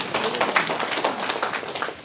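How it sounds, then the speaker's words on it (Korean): Audience in a Korean county hall presentation clapping, a dense patter of many hands sustained for about two seconds without talk. "박수 좀 쳐주세요."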